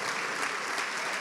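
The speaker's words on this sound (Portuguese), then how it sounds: "Eu queria convidar a minha igreja a aplaudir o Senhor pelo dom da visão" A church congregation applauds together, a dense, even wash of many hands clapping at once, fairly close and continuous through a brief moment.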